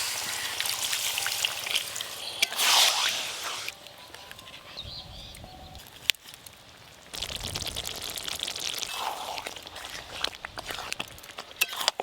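Potatoes simmering in water in a pot for Kashmiri aloo dum, a steady bubbling crackle that runs throughout, drops for a few seconds near the middle and then returns close and fairly loud.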